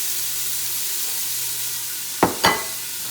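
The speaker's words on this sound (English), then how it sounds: "you're gonna saute the onions and carrots" Onions and carrots sautéing in avocado oil give off a steady, close hiss of frying, broken near the end by two quick clatters of a utensil against the pan; no one speaks.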